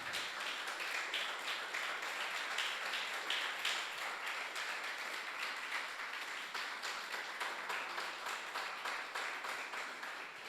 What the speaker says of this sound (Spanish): Dale un aplauso al nombre del Señor en esta mañana.